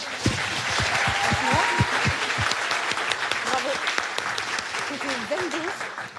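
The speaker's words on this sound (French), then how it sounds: "Des applaudissements, s'il vous plaît, pour Hélène, Emilien" Live studio audience at a public podcast recording applauding steadily, a dense wash of clapping mixed with scattered cheers and voices, holding strong and easing slightly toward the end.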